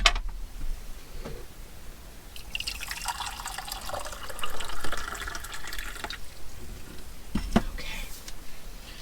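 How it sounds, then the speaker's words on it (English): Tea poured into a cup, a steady trickling, splashing stream of liquid lasting several seconds, close by and moderately loud, with a brief clink near the end. "Let's pour some tea."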